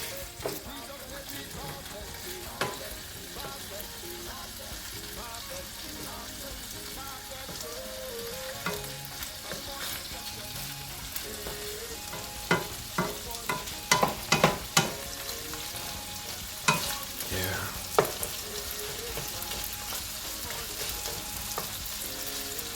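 Shrimps and noodles frying on a stove burner, with a steady close sizzle and crackle throughout and louder scraping clatters of stirring scattered through the second half, no talking.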